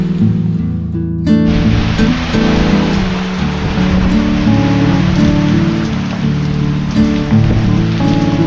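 Heavy monsoon rain in the Konkan region pours down in a loud, steady, dense hiss that continues unbroken throughout, with no voices.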